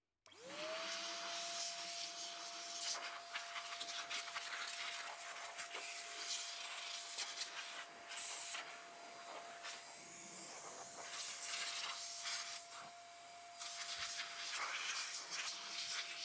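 A steady rushing blower hiss with a constant whine is heard nearby as air is blown into an opened 16-year-old digital piano during repair, and it runs continuously throughout with no speech.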